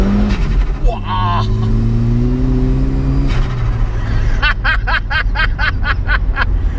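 Vauxhall Astra with a swapped-in Saab engine accelerating hard in second gear, the engine note climbing steadily before a shift, then rapid chattering pulses as it pulls again, with a person chuckling over it.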